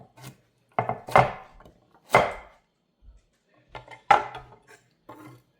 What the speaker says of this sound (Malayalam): ഈ ബീട്രൂട്ട് ചെറുതായിട്ട് അരിഞ്ഞ്